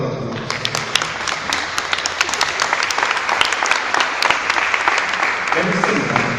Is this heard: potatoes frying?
no